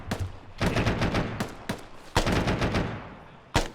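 Rapid bursts of gunfire from an ArmA or DCS combat game, with dense fusillade volleys in clusters and sharp isolated shots, loud and close, no voices.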